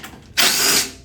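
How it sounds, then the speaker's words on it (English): A power drill backs a screw out of a Kaabo Mantis X Plus electric scooter deck, one short, loud whirring burst of about half a second, sharply starting and then fading. "So I take this screw off."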